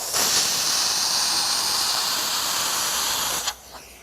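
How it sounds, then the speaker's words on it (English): A spray gun sprays a test pattern of rubber-based seam sealer, giving a loud, steady hiss for about three and a half seconds before it cuts off abruptly and falls to quiet. "Always do a test pattern prior to spraying the car to make sure you've got the correct look."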